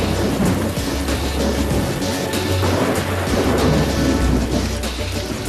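A steady downpour of rain with rolling thunder, heavy rumbling low booms beneath continuous hissing rainfall, loud and sustained with no voices.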